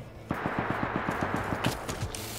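Rapid automatic gunfire in the survival game Rust, fired from above: a steady, evenly spaced burst of about a dozen sharp shots, loud and close, followed by a few scattered louder cracks.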